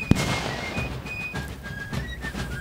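A sweet gum Civil War mortar fires with one sharp, loud report at the start, followed by rumbling echo and outdoor background noise.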